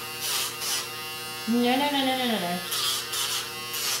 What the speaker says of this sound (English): It can make it a little easier to keep the hair out of the Dremel